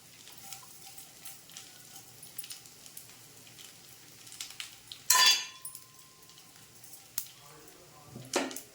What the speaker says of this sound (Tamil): போட்டு நல்லா வதக்கி விட்றேன்